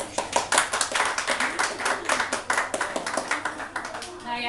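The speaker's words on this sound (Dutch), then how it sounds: "Daarvoor wel een applaus vooral." An audience in a hall at zaal Koenders applauds, a continuous patter of many hands clapping, loud and close, with voices faintly mixed in.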